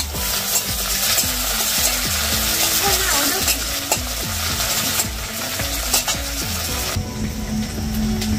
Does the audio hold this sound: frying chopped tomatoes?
yes